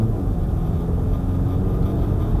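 A 2.0 TDI Quattro Audi Q5 diesel SUV accelerates with a steady, loud, low rumble of engine and road noise heard from inside the cabin.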